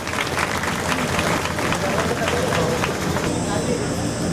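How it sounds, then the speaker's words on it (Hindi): A crowd bursts into sustained applause welcoming the chief minister in Bilaspur, Chhattisgarh, dense clapping mixed with murmuring voices, loud and close throughout. "हम एक बार जोरदार अपने मुख्यमंत्री जी के लिए ताली बजा करके हम लोग स्वागत करेंगे"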